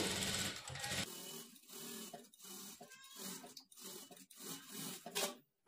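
A domestic sewing machine runs in short bursts along the edge of a blouse lining, its motor whirring in stop-start runs with brief pauses between stitches, close and fairly loud.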